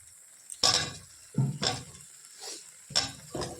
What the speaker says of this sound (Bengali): এবার ভাজা আলু দিয়ে দেবো।